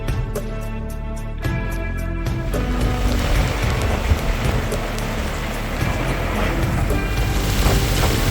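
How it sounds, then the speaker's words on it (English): Water taxi motoring across the sea from Mārahau toward Anchorage in Abel Tasman National Park, with a loud continuous engine drone and rushing water and wind noise, and a brief rapid rhythmic tapping at the start. "Day 1 starts with the water taxi ride from Mārahau to Anchorage"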